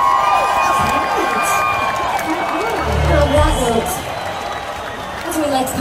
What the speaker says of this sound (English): Give yourself a round of applause for being the queens you are